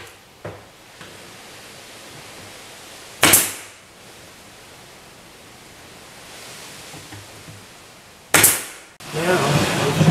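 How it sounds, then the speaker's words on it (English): A staple gun drives staples into a kitchen cabinet drawer, giving two sharp, loud snaps several seconds apart against a steady background hiss, with some muffled handling noise at the end. "So I'm going to go ahead and staple that."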